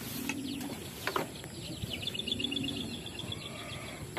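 Domestic pigeons give soft, low repeated coos close by, over steady background noise, with a few faint bird chirps and light knocks scattered through.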